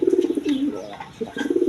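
Peshawari Lahori pigeons in a breeder's coop giving a few soft, low coos in short rhythmic bursts, close by, with faint chirps and no voices.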